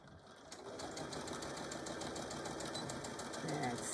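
A sewing machine back-stitching a tool carry bag, a steady close mechanical whirr with rapid needle chatter running continuously throughout.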